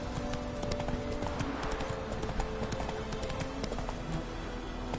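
A horse gallops in The Witcher 3, hoofbeats thudding in a rapid steady rhythm close up, with a brief whinny and game ambience underneath.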